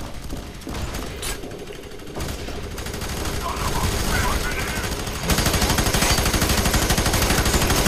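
Dense, sustained automatic gunfire from the first-person shooter FEAR 3 multiplayer, rapid loud bursts layered with mechanical clatter, growing more intense toward the end and nearly unbroken throughout.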